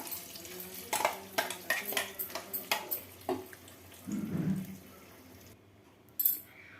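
A spoon scrapes rhythmically around a pan as ground cucumber chutney is mixed into a curry-leaf tempering: about ten quick, evenly spaced strokes, then a softer slosh and a final clink.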